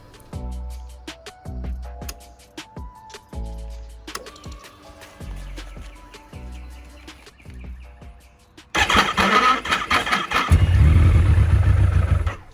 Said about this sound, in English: Now let's try and start the bike.